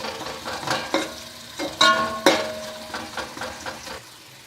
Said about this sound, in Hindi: ये देखिए प्याज को मैं नरम कर रही हूँ, ब्राउन नहीं करना है बिल्कुल भी।